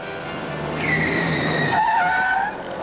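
A moped brakes hard on a road and its tires skid with a loud, rising squeal that lasts about two seconds, up close with traffic noise behind and no one talking.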